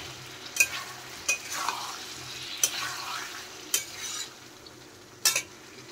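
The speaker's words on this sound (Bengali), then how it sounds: "এখন আমি ভেজে রাখা পটল আর চিংড়ি মাছ দিয়ে দিলাম, দিয়ে আবার ভালো করে কষিয়ে নেব।" Fried pointed gourd and shrimp are stir-fried with spice masala in a pan: a low continuous sizzle punctuated by about six sharp spatula clacks against the pan at irregular intervals.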